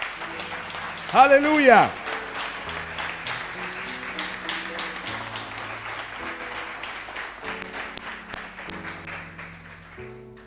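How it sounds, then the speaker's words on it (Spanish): A church congregation claps for the Lord, a steady ripple of applause under a voice that calls out and sustained musical tones throughout. "Dale un fuerte aplauso al Señor."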